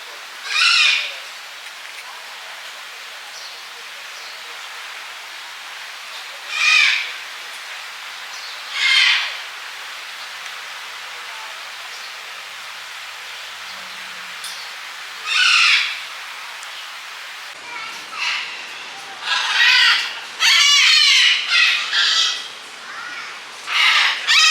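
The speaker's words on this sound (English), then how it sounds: "here's a sample of those birds" Birds in a plant shop give loud, harsh calls that repeat every few seconds over a quiet background, then bunch into a quicker burst of squawks near the end.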